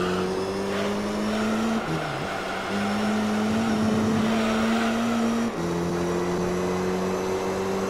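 Corvette racing in Gran Turismo 3: A-Spec, a loud, steady engine whine held at high revs, dipping briefly at two gear changes or braking points before climbing again, with no voices.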